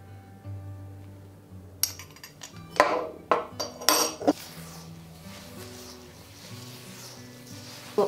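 Batter of beaten eggs, coconut flour and baking powder mixed by hand in a bowl, with a burst of clinking, scraping utensil strikes against the bowl in the middle and quieter stirring before and after.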